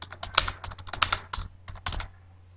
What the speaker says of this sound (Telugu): ఇక్కడ నేను టైప్ చేస్తున్నాను కదా